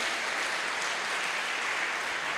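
Church congregation applause, a steady, even wash of clapping at moderate loudness lasting a couple of seconds, with no voices over it.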